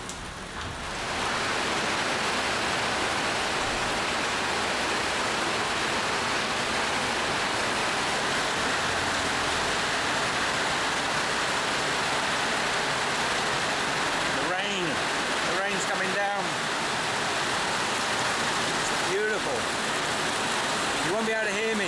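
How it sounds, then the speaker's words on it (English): Steady, heavy rain hisses continuously in Ubud, Bali, close and loud, with a few brief sharper sounds near the end. "today, we've got rain here in Ubud"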